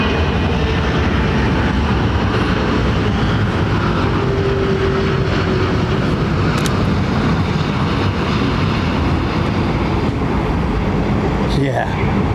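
Virgin jet airliner arriving at London Heathrow Airport, a steady broad engine roar that stays loud throughout, with a brief sharper burst near the end and voices faintly underneath.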